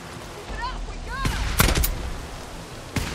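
Gunfire in Days Gone on PC cracks out in a few loud, sharp shots, a tight cluster in the middle and a single shot near the end, with brief whistling sounds just before.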